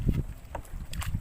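Strong wind buffets the microphone on a fishing boat at night, coming as heavy low gusts and thumps in uneven bursts, with faint water and boat noise beneath.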